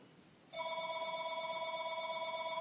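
A telephone starts ringing abruptly in a tack shed, its electronic tone holding steady and fairly loud after a short quiet lead-in, continuing unanswered to the end.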